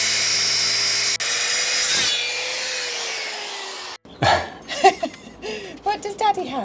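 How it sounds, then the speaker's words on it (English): A handsaw cuts through a thick piece of scrap wood, a loud rasping stroke noise that runs a few seconds and stops, followed by someone speaking close by. "because this part here is thicker, I need to cut it with my handsaw."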